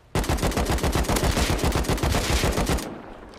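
Automatic gunfire from the Rust video game: a loud, close, rapid string of evenly spaced shots running almost three seconds without a break, then cutting off into a short fading tail.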